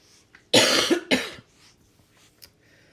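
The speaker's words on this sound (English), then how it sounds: "Can't wait till this cough is gone." Two sharp, close coughs in quick succession, loud against a quiet background, followed by near silence.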